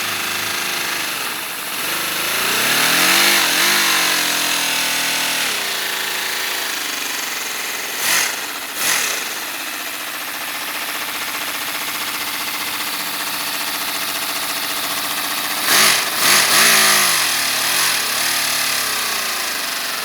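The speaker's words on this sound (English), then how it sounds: "that is the V12. The V12, it runs smooth." A miniature handheld V12 Lamborghini model engine runs close and loud with a steady buzzing drone, revving up in pitch several times and dropping back to idle between bursts, with no talk.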